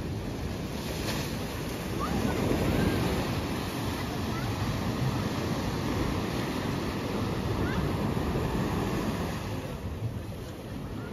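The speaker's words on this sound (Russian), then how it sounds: "Волна такая сегодня, ребята," Sea waves on the Odessa shore, a continuous loud surf wash with rushing, hissing water and some wind noise on the microphone, steady throughout with no speech.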